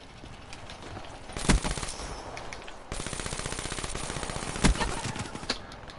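Rapid bursts of electric-gun fire in Call of Duty Black Ops 3, a dense stream of shots with two sharp loud cracks standing out, continuous and fairly close.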